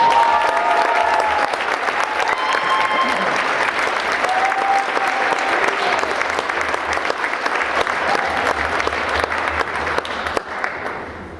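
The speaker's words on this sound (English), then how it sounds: "I would like everyone to give her a big round of applause to this year's most improved player, Taya Fernandez." A crowd at a school winter sports awards ceremony gives a sustained, loud round of applause for a most improved player, the dense clapping holding steady for about ten seconds before tapering off at the end.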